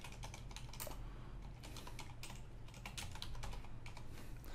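Rapid typing on a computer keyboard, a quiet stream of light, uneven key clicks, close and alone, with no voices.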